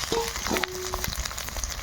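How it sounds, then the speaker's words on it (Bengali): Green chillies dropped into a pan of frying onions: a short burst of dense sizzling with a few quick clatters and spoon scrapes, heard close and with no voices. "পেঁয়াজ ভাজা হয়ে গেছে কাঁচামরিচ দিলাম"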